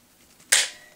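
A single sharp metallic snap as the decocker is worked on a new pistol, close and loud, with a short ringing tail after near-silence.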